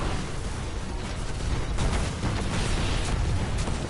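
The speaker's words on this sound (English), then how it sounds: "Skolas shooting a fucking scorch cannon at you" Skolas fires a scorch cannon in the game Destiny, a dense sustained roar of blasts and explosions filling the whole stretch at high loudness, with no talk.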